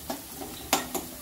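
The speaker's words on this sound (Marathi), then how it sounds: "तेल गरम होऊ दिलेलं आहे आणि त्यामध्ये मी आता हे कांदे खरपूस भाजून घ्यायचे आहेत" Chopped onions fry in hot oil in a pan for a prawn curry, giving a soft sizzle broken by a few sharp stirring scrapes, close up and with no talking.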